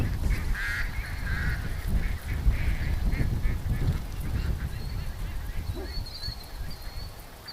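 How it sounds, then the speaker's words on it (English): A flock of ducks in a swamp, honking and quacking in a steady, fairly loud chorus throughout, with a few clearer calls rising above the mass. "The ducks are, they're stopping like in panic mode in the middle of the swamp"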